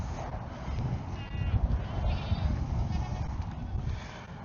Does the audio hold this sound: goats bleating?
yes